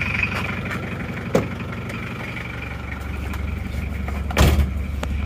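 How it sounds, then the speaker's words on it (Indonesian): An Isuzu Panther diesel engine idles after a cold morning start, a steady low rumble with a constant drone and no speech, broken by two brief louder knocks. "Oke, lanjut lagi sampai mesin panas."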